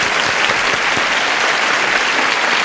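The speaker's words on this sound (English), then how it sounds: "Applause, applause, applause." A television game-show studio audience breaks into steady, dense applause as two contestants are introduced, loud and continuous throughout with no speech over it.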